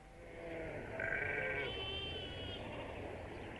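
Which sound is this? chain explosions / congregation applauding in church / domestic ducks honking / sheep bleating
sheep bleating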